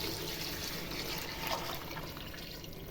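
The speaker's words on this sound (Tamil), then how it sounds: "வெந்நீர் விட்டுக்கிறேன்." Hot water poured into a pot of Kongu Nadu–style biryani with oil separated on top, a steady close liquid rush with faint trickling and dripping throughout, no voices.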